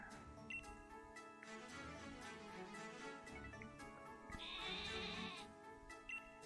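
A sheep bleats in Pokémon Sword, a wavering game-style cry over a bright synthetic musical background with chiming notes, fairly quiet and steady throughout.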